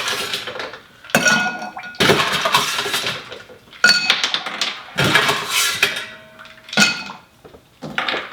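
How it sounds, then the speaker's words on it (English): Ice being stirred in a spirit-only gin cocktail, loud close glassy clinks and rattling in repeated bursts separated by short pauses, with no voices. "We're stirring this, we're not shaking. Let's get some ice and get this one chilled down."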